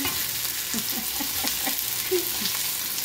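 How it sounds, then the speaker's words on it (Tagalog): Sliced onion sizzles steadily in hot oil in a pan, with a series of soft scraping stirs from a spatula punctuating the frying hiss. "Yan, gisa tayo ng sibuyas"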